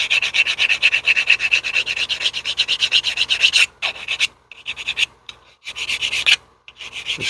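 A hand file rasps steadily across a plastic part from a Walthers Cornerstone State Line Farm Supply loading dock model kit. Close, rhythmic strokes run continuously, then break into shorter scattered strokes with brief pauses near the end, with no talking.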